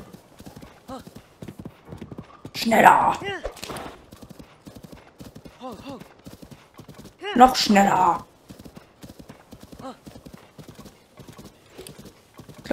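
A horse gallops in Zelda: Tears of the Kingdom, with steady rhythmic hoofbeats throughout and two louder whinnies or bursts, while a player urges it on in speech.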